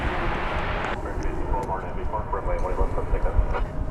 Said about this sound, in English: 1812 is off to Colorado Springs. It's a 737-800.